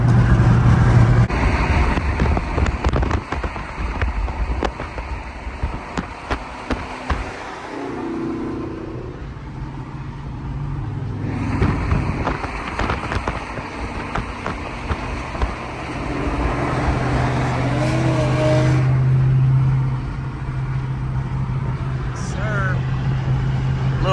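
A Dodge Charger RT with a 5.7 engine is driven on the road, its engine drone and wind rushing loudly and continuously inside the cabin. The engine swells at times, and someone talks over it.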